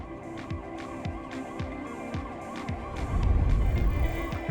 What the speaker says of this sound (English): I can hear police sirens